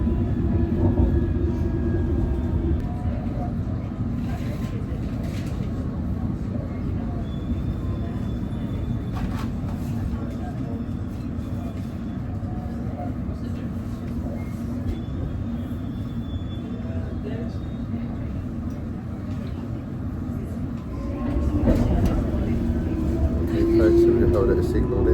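A London Underground District line train heading toward Richmond gives a steady low rumble and hum of the carriage in motion, with faint squeals, running continuously.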